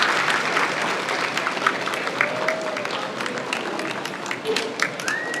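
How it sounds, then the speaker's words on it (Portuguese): Audience at a business talk gives a sustained round of applause for the whole team, dense steady clapping with a few louder accents and scattered voices and whoops mixed in throughout. "dar uma salva de palmas para a equipe inteira."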